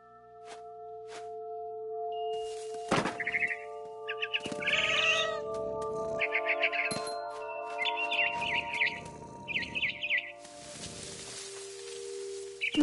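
In the video game What Remains of Edith Finch, a cat meows repeatedly while a frightened barn swallow chirps in short, scattered bursts, all over a continuous tonal ambient backdrop.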